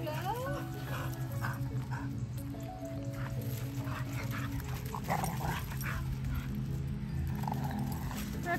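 A small dog whimpers and lets out short yips in a room while people talk over it, the whining steady through the clip under a constant background hum.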